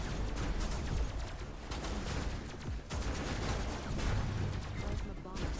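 Rapid bursts of gunfire from the video game Robocraft rattle on continuously and densely throughout, loud and steady, with faint speech mixed underneath.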